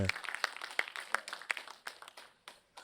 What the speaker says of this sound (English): Round of applause for educators.